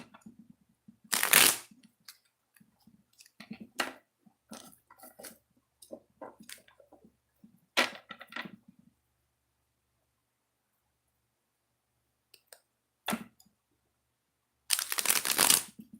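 Tarot cards shuffled in two separate bursts of riffling, one early and one at the end, with soft scattered handling taps between them and no talking.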